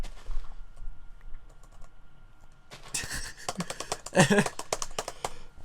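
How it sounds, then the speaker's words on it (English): Rapid clicking keystrokes on a computer keyboard come in after a quiet stretch, close and fairly loud, with an uneven typing rhythm. "The sound of something typing this now as you read."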